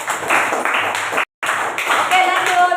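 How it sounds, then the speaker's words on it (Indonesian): Classroom applause from students, a steady run of dense clapping that breaks off briefly in the middle and then resumes, fairly loud and close, with a faint tonal sound near the end. "Oke, tepuk tangan."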